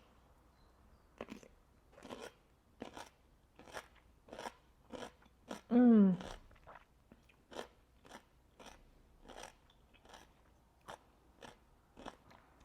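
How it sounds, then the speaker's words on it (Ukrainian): Repeated crisp crunches as someone bites and chews crunchy lightly salted pickled cucumbers made with grated horseradish, about a dozen sharp bites at a steady pace, close up. "Чуєте, які вони виходять хрусткі."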